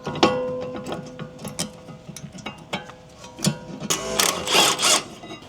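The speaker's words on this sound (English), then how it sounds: "we're going to go ahead and remove the rear calipers and brackets" Rear brake calipers and brackets coming off a 2006 Acura RSX Type-S with a ratchet: rapid mechanical clicking and ratcheting bursts with metallic clinks, close and fairly loud, ending in a busier clatter of tool handling.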